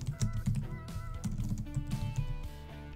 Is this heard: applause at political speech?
no